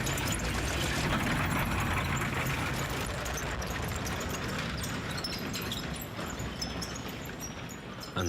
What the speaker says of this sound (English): This German Stug 3 is equipped with a modern engine,